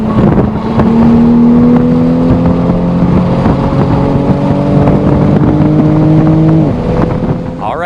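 A 2020 Toyota Supra driven hard on a racetrack, its engine revving up through rising tones with gear changes, loud and close for several seconds before the note eases and fades.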